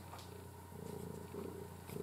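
A male cat purrs up close, a soft, steady, low rumbling drone that keeps an even rhythm for about two seconds, with no voices over it.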